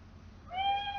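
A single domestic cat meow rises clearly and close, a brief tonal cry over a faint, quiet indoor background.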